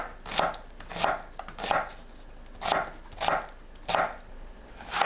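Knife chopping an onion into small pieces on a cutting board while preparing a seafood soft tofu stew; about eight crisp, evenly spaced cuts land in a steady rhythm, close and clear, with no talking.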